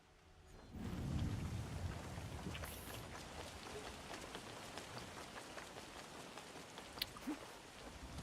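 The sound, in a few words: rain in video game Assassin's Creed Shadows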